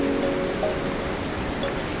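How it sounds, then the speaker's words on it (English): Water cascades down a waterfall near the Matterhorn beside a mountain lake, making a steady close splashing rush that stays even throughout. "The water cascading down the waterfall."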